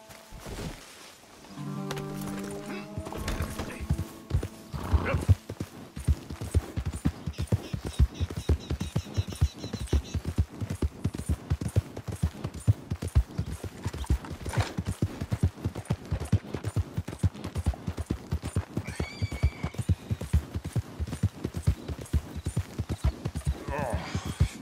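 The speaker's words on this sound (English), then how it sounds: "Goddamn drunk horse." Horse hooves clip-clop at a steady walking rhythm in the video game Red Dead Redemption 2, near and continuous, with a brief whinny early on and spoken voices and game sounds mixed in.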